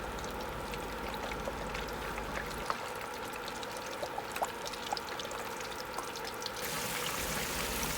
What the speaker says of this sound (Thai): น้ำมันร้อนแล้วเราก็ใส่ปลาลงไปทอดได้เลยค่ะ